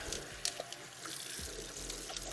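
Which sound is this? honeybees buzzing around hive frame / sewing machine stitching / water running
water running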